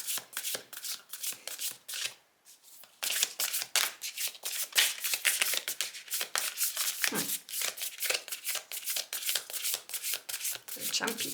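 Healing Spirits Oracle cards shuffled by hand in a steady stream of quick riffling flicks, briefly pausing before continuing, with a person's voice speaking softly alongside.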